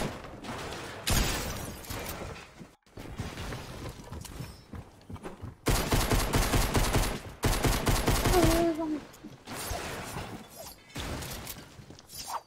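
Gunfire in the video game Fortnite rings out in several separate loud bursts of rapid shots, with short quiet gaps between them.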